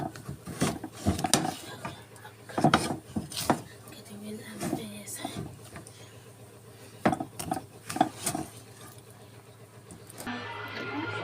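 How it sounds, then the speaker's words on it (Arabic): A spatula works thick, sticky mochi dough around a pan, giving repeated scrapes and knocks against the metal in an uneven rhythm, close and moderately loud, with a voice talking intermittently. "وهنفضل نقلب فيها لحد ما تلزقش خالص في الايه، في الاسباتولا اللي احنا بنقلب بيها"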